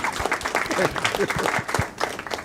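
A round of applause for a person's work, clapping steady and fairly close with voices talking over it throughout.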